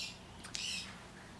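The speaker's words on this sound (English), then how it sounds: "And my bird is grumpy." Pet bird giving a grumpy squawk, a short harsh call with a quick second burst, faint and thin over low room noise.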